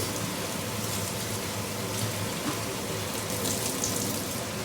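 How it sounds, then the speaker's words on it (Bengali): Water pours into a small metal spice bowl to rinse it while a meat curry is being prepared, a steady soft splashing wash heard close up with no talk. "এই মশলার বাটিটা ধুয়ে একটুখানি জল দিয়ে দেবো"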